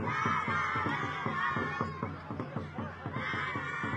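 A youth football cheering squad at an under-11 match chants in a steady rhythmic beat, many voices shouting together with regular pulses, with a crowd din behind them.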